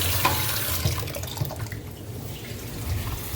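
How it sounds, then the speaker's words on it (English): Water running and draining through newly installed bathroom plumbing during a repipe, a steady gurgling wash of flow heard close up without talk. "That's the sound of a fresh drain."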